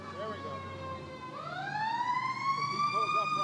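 Emergency vehicle sirens wail and rise in pitch as they pass nearby, steady and fairly loud, at an outdoor campus naming event, with faint crowd noise underneath.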